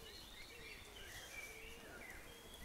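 Birds call and chirp through steady rain in the Black Forest, a soft continuous wash of high twittering notes over the patter, faint and somewhat distant with no talking.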